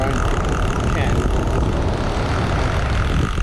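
A drone whines steadily overhead at night during a mulloway fishing session, a continuous buzzing hum that stays fairly loud and even throughout, with outdoor wash beneath it.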